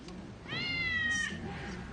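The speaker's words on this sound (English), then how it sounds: "A remote-controlled feline whine" A remote-controlled toy called the Meower gives off a single drawn-out, whiny cat meow that rises and holds for about a second, fairly clear above a quiet courtroom room tone.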